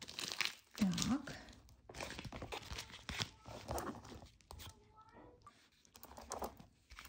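A bubble-wrap parcel holding gel nail polish is handled and opened, giving bursts of crinkling, rustling and tearing at close range. The sounds come in uneven clusters with pauses between them.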